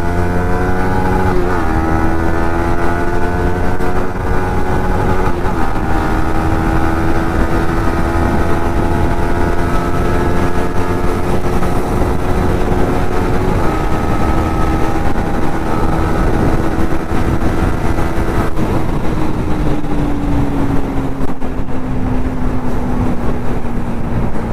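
A Yamaha MT15 motorcycle engine drones loudly and continuously while riding in second gear during a wheelie, its pitch rising and falling with throttle and gear changes.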